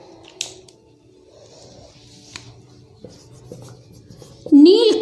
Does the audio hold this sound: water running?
no